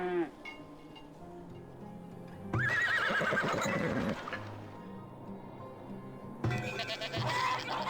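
Horses and cows in the farming and settlement video game Farthest Frontier. A loud whinny rises above a steady outdoor ambience, with bleating and livestock calls and a second animal call near the end.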